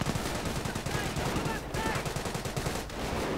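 Dense, rapid bursts of gunfire and Bren light machine guns in a World War II strategy game crackle close together without pause, a steady rattle of shots.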